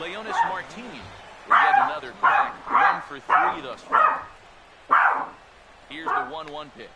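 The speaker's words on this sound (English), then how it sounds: "Sorry about the dogs." Dogs bark loudly in a room in rapid bursts while a baseball game commentary voice talks during MLB 15 The Show.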